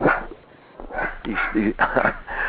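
A small dog barks and yips in several short bursts close to the microphone, mixed in with a man's speech.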